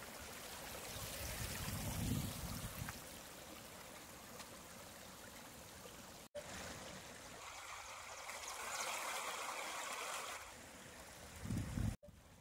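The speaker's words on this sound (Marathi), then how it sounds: "तो बघा वॉटरफॉल. ते इकडून पाणी खाली येते असं," Water flows down the Adai waterfall near Panvel in monsoon season, a steady broadband rush heard from a moderate distance, with brief rumbling bumps, likely wind or handling noise, and two sharp breaks.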